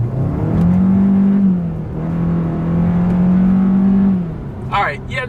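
A 2020 Hyundai Sonata engine revs hard after paddle-shift downshifts, a loud steady drone rising and falling in several sustained surges over about five seconds, close and inside the cabin, ending with a brief high whine.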